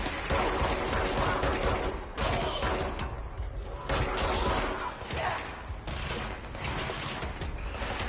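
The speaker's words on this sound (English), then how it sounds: "Keep shooting that middle satellite." Sustained gunfire in Control aimed at a satellite, a near-continuous loud barrage with brief dips between bursts, no talking.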